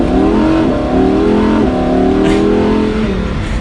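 A Lamborghini Huracan EVO RWD engine revs up loudly and close in Strada mode, its pitch climbing in smooth rising sweeps as it accelerates, with no talking.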